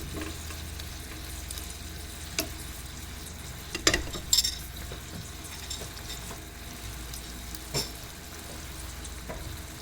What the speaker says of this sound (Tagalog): magsisimmer lang siya for like 1 minute.